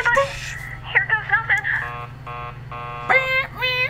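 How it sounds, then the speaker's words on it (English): A door buzzer in the video game Killer Frequency rings in repeated electronic tonal bursts, uneven and insistent, with pauses between presses over a low hum. "keep calm and ring the buzzer. Use the buzzer."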